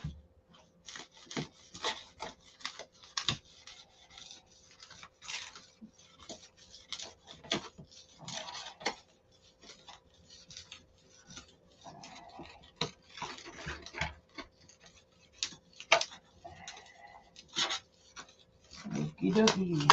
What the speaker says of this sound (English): I'm scraping the bench off here because I'm getting ready to put this flat down